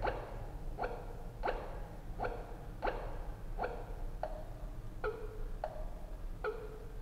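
An alternative turn signal tone on an electric motorcycle sounds as a steady series of sharp, evenly spaced clicks, about nine in seven seconds, each with a short ringing tail, over a low background hum.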